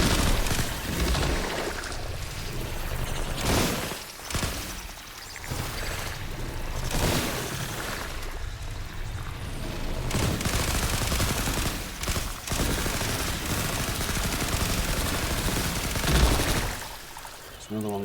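A gun turret in the video game The Last Caretaker fires in sustained, loud bursts of rapid shots with some booming impacts and short pauses, the barrage mixed with other game sounds.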